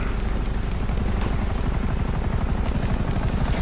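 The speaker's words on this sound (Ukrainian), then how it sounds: "ось і гелікоптер" Helicopter in the video game GTA 5, a loud continuous rotor chop with rapid steady beating and a dense roar, heard alone.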